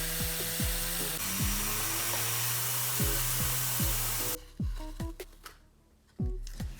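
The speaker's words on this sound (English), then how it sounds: "the holes I'm drilling for the hinges will be lined up" A small power drill bores hinge holes in miniature wooden cabinet doors, whirring close and loud, with pitch sweeps as it speeds up and slows down, then stopping and starting in short bursts.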